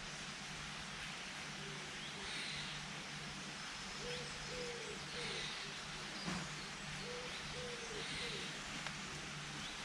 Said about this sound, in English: there's a squirrel to my far left, squawking away